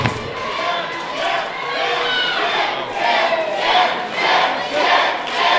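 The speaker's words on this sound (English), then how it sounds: "The crowd chanting for Chip" A wrestling crowd at an IHW event chants for Chip in loud, rhythmic pulses, a packed arena of voices rising and falling in repeated waves.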